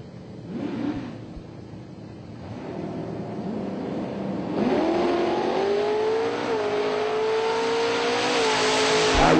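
NMCA/NMRA drag racing cars launch down the quarter-mile, engine roar rising from a low idle into a loud, sustained wail as they accelerate away.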